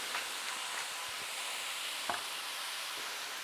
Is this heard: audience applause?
no